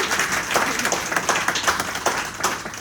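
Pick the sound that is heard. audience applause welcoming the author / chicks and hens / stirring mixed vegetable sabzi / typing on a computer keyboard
audience applause welcoming the author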